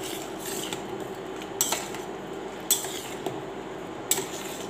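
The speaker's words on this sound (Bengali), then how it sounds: "এখানে আমি দুধটাকে ভালোভাবে নেড়ে নেব।" A spoon stirs milk with sugar in a bowl, heard as faint, sparse metallic clinks and light scraping about once a second against a quiet room background.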